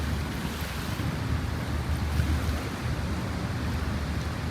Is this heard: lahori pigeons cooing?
no